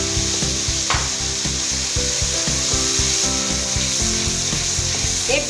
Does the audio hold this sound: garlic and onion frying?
yes